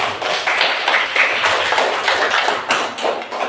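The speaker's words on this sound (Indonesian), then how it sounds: "Tepuk tangan buat kelompok." A classroom applauds a student group, with many hands clapping in a dense, fast patter that stays loud and steady for a few seconds and has no speech over it.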